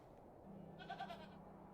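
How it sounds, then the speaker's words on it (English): A goat bleats in the adventure game The Excavation of Hob's Barrow, a single wavering cry over a low steady background hum, fairly quiet. "Poor goat. Easy girl."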